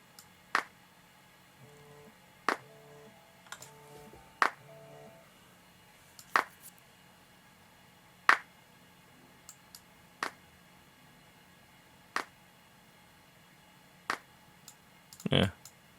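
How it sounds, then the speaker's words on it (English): Drum clap samples hit in an EQ'd mix, sharp isolated claps spaced about every two seconds over faint synth tones, with a denser double hit near the end. "claps sound a little dead"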